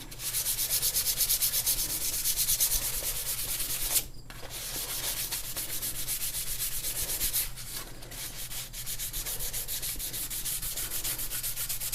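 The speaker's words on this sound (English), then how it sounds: "I've just got some 400 grit sandpaper. I'm just gonna basically polish the oil back off where it carburized." A Damascus steel knife blade after heat treating, rubbed with 400 grit sandpaper to polish off carburized oil, steady close rhythmic scraping strokes with one brief pause.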